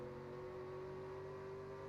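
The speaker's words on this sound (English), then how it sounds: "Now you can hear how low the RPMs are" A race truck engine in a racing video game drones at low RPM, a steady, even hum with no revving or gear changes, running alone without voices.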